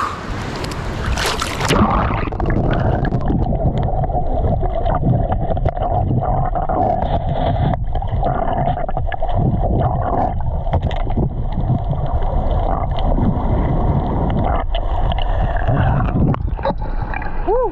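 A speedboat powers over waves off Basilan in the Philippines, its engine droning steadily up close amid rushing wind and splashing water, with a sharp burst of wind noise at the start.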